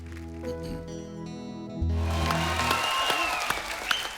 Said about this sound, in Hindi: इनका भी दिल कर रहा है खड़े होकर ताली बजाने को